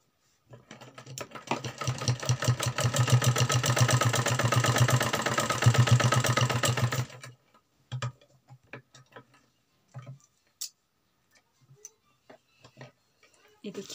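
Sewing machine stitching cloth for a suit, a fast steady mechanical rattle running for about seven seconds, close and loud, then stopping, followed by scattered clicks and handling noises.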